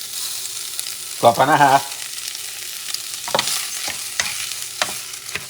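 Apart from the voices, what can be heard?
rice added to a pan and stirred with salted pork and bok choy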